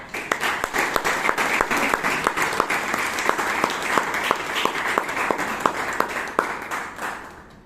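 An audience at a Toastmasters club meeting in Bangalore breaks into a round of applause, dense rapid clapping from many hands holding steady for several seconds before tapering off at the end.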